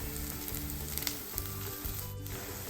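Mixed vegetables fry in a pan until light brown, giving a steady close sizzle throughout with no voices.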